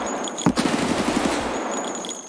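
In the Escape From Tarkov video game, a rapid burst of gunfire rattles out as a string of sharp shots, loud and close, followed by a lingering echo and game ambience.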